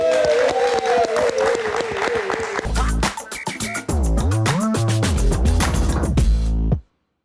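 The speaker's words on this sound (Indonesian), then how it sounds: "Kita kasih tepuk tangan untuk Chanty." Crowd applause on a live television talk show, clapping under a musical sting with a held tone, then a brief dip before bright stabs of music and clapping resume together and cut off sharply.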